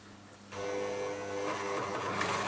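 An Elna L4 overlocker sews fabric, a sudden start into a dense, steady mechanical whirr that holds close and loud to the end.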